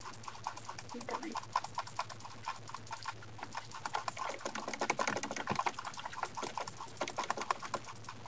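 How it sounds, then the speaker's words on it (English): Rapid, clattering keyboard typing continues throughout in uneven bursts, close to the listener, with a low background hum. "Excuse the keyboard sounds."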